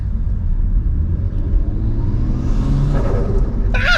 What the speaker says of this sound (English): Bro, you can full hear the intake noise as well with the suction.